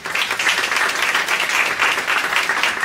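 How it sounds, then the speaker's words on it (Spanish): Steady applause from a large audience at a Mexican judicial dialogue event, loud and continuous for the whole stretch with no talking over it. "Reciban con un fuerte aplauso."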